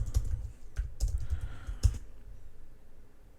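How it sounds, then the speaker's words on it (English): Short bursts of clicking keystrokes on a computer keyboard as a terminal command is entered, a few quick taps in clusters, close and fairly quiet, then silence. "Now let's navigate back to the other terminal and type"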